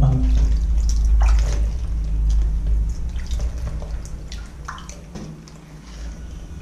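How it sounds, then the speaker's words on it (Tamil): Water poured over a foam tile during a waterproofing test, splashing and trickling steadily as it runs off the surface, with a low rumble underneath throughout. "தண்ணி ஊற்றுனா அப்படியே ஓடி கீழே இறங்கிடுது."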